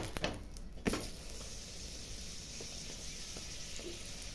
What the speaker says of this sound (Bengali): এরকম করে আমি প্রতিটা পরোটা ভেজে নিচ্ছি।